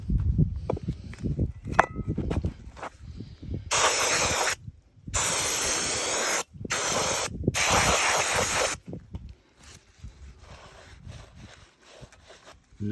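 Spray cleaner hisses loudly in several long, steady squirts onto the front bearings of a bicycle, separated by short gaps, with quieter rubbing and handling sounds before and after.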